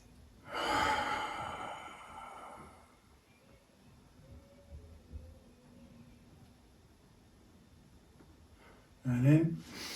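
Slow, steady exhalation during a Yiquan standing exercise, a soft breathy rush near the start lasting a few seconds, then quiet, with another short breath at the end.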